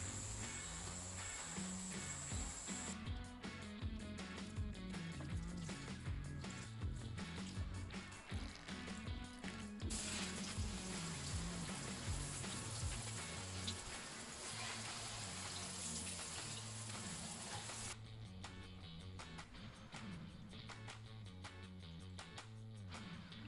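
Steady running water from a tap or watering can as houseplants are showered and watered on returning from holiday, with a continuous wash broken by splashing bursts throughout, close and moderately loud.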